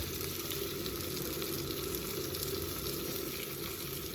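Sliced rosemary potatoes fry in a pan with a steady, even sizzling hiss, close and continuous without pauses or voices.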